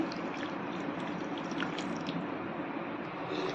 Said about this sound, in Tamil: இதில் கால் கப் அளவு தண்ணி சேர்த்துக்கலாம்